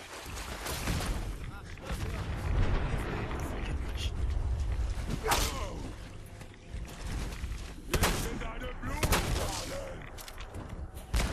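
Heavy explosion booms and blasts in the video game Fallout 4 rumble over a dense, noisy background, with a few sharp loud bangs standing out.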